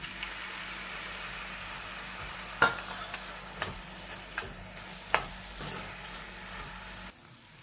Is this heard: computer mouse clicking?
no